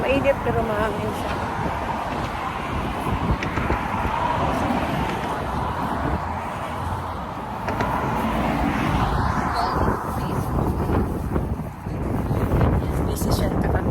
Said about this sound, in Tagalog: Mahangin. Mainit pero mahangin siya.